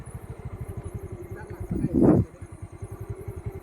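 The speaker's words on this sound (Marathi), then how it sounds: "गाडी चालत नाही आहे ढकल स्टार्ट" A motorcycle that will not start is pushed to get it going beside a river, its engine thumping in a rapid, regular chug that swells briefly to a louder burst midway before settling back to the even pulse.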